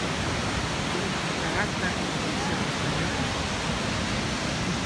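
Roaring Iguazu waterfalls in Argentina, a dense, steady broadband rush filling the whole clip, with a faint voice speaking briefly under it.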